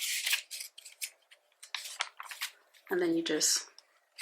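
Scissors snip through paper planner inserts in a couple of short cutting bursts, close to the mic, with someone talking before and between the cuts.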